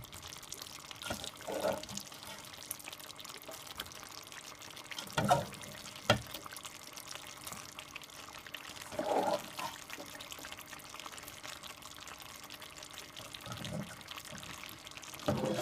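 Hot water splashes and pours into a pot of Jamaican curry chicken in several short bursts, with gaps of quiet kitchen sound between them and no talk.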